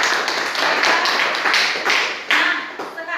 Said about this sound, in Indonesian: berikan dulu tepuk tangan untuk semuanya